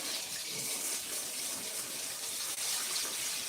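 Frozen shrimp rinsed under a running kitchen tap: a steady, close hiss of flowing water that runs unbroken throughout, with no voices.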